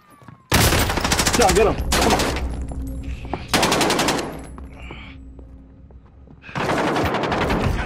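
Bursts of loud, close automatic gunfire from a Call of Duty match, rattling in long volleys with short breaks between them, while players shout over the shooting.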